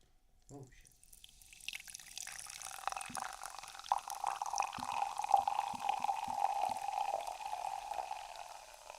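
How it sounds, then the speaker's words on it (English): Fresca soda poured into a cup, a steady close fizzing and trickling stream that builds after an initial clink and keeps going, with carbonation crackle throughout and no talking over it. "Y'all want to hear this Fresca get poured?"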